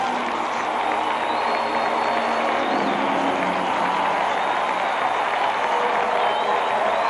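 A roaring crowd of more than 9,000 cheers steadily after a home run at a Reds versus Braves baseball game in 1983, a dense, continuous wash of noise with no breaks.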